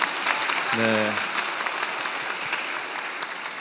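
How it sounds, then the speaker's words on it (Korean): An audience at a gathering of future scientists claps in a dense, sustained round of applause while a voice speaks briefly over it. "박수 한번 주세요."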